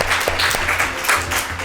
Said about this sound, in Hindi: ज़बरदस्त, ज़ोरदार तालियां बजाएं बच्चों के लिए।